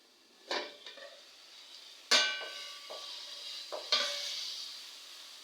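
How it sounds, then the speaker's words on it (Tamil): A metal lid comes off a covered cooking pot of stewed tomatoes for white chickpea curry, giving a few sharp clanks and scrapes with a brief sizzle, close and fairly quiet with no talk. "இப்போ நம்ம மூடி வச்சிருக்கிற பாத்திரத்தை திறந்து பார்க்கலாம்."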